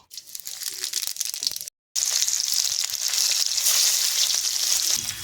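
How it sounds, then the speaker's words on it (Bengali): Whole cumin seeds and dried red chillies crackle loudly in hot oil in a kadai, a dense, close hiss that drops out for a moment and then returns stronger, with no speech. "কড়াই তেল দেব, গোটা জিরে আর শুকনো লঙ্কা দেব,"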